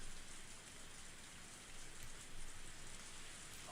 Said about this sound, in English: Only the sound of the pouring rain filled up the silence.